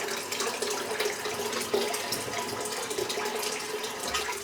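Water running steadily from a tap onto shaving soap lather, a continuous close splashing hiss with no pauses and no talk.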